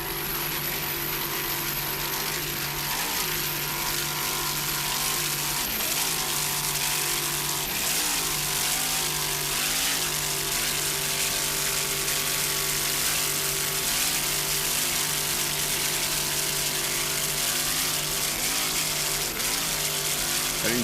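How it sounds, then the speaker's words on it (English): Racing powerboat engine of the Wizard of Oz, a T Custom Marine Import, roaring steadily at the 1986 Key West world championship race off Mallory Square, a loud sustained drone with shifting tones throughout. "Just listen to that engine there, that Wizard of Oz T Custom Marine Import."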